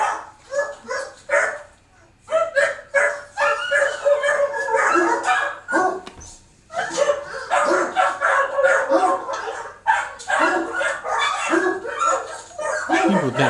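Dogs kept in cages bark and yip repeatedly in bursts, with whimpering mixed in, while people talk over much of the noise.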